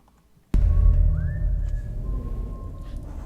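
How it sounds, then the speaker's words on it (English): Human whistling in a TV episode, a single clear whistled tune of a few rising and held notes starting abruptly after a moment of near silence, heard over a low rumbling background with no talk. "I have a note that says there's whistling at 48 minutes right before"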